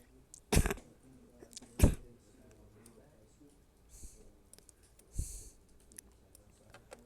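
A few sharp mouse clicks spaced apart, two loud ones early and softer ones later, in the quiet of a PC Building Simulator session with faint background noise.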